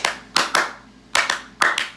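Audience clapping during a comedy reading show comes in three short, sharp bursts of a few claps each, separated by brief quiet gaps, fairly close and moderately loud.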